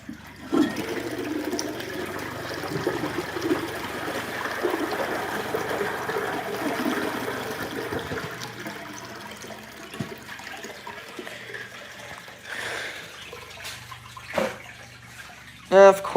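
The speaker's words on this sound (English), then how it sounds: "Here's a flush." A public restroom toilet flushes with a long rushing, swirling water sound that lasts most of the way through, then tapers off into quieter room noise with a few short knocks near the end.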